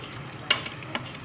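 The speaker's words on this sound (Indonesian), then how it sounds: "Sekarang kita tumis sausnya." Rica-rica sauce with blended ginger sautéed in a pan, for grilled fish: a faint, steady sizzle with a few light utensil clicks against the pan, no voices.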